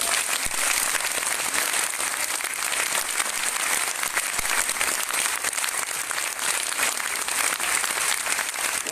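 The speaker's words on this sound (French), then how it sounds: "Grand applaudissement pour" Sustained, dense applause from a large crowd at a military tattoo in Arras, France, for the DVS Katwijk drum band, steady and loud throughout with no pauses.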